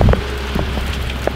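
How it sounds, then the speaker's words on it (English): Rain falls steadily as a dense, even hiss with a few louder drop taps, close by and continuous, with no voices. "Raining guys, raining, which is good."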